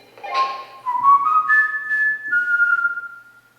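A person whistles a demonstration whistle inside a county jail, a loud close melodic whistle lasting several seconds with sliding pitch and a few short notes, heard alone without talking.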